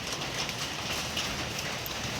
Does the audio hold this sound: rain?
yes